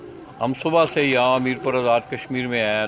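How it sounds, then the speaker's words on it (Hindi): Pigeons coo at a household loft in Mirpur, Azad Kashmir, their soft calls running under a man's continuous speech. "ये जो सारे कबूतर आप देखेंगे"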